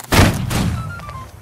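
A musket volley fired by a line of soldiers in the Napoleonic-era game Holdfast: a single loud, booming burst that hits at once and then rolls into a short, fading rumble of echo.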